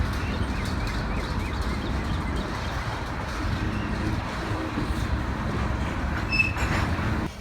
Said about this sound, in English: a St. Louis-bound freight headed up by SD70 Ace 9058 rolls by on the North Main